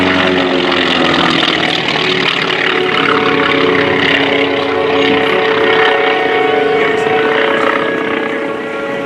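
Joe Edwards's T-28 Trojan, a 1954-built former Navy trainer, roars past on a photo finish pass at the NAS Patuxent River Air Expo, a loud sustained propeller engine drone with a faint voice mixed in.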